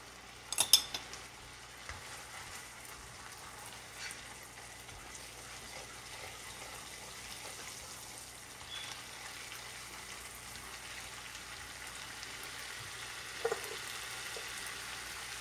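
A spoonful of mustard seeds sizzling in butter for a tempering of dhaba-style dal makhani, a faint steady frying hiss with a few sharp clinks and pops, especially near the start.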